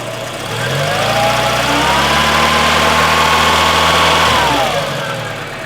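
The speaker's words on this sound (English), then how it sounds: "Rev engine with the load off." Car engine revving with the electrical load off during an alternator output test, climbing from idle to a steady held rev for several seconds, then dropping back to idle, close and loud with no talk.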